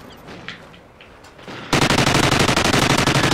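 The Death Machine gun in Call of Duty Ghosts opens up after a quiet moment of ambient game noise, then fires a sustained, loud, very rapid stream of shots that runs to the end.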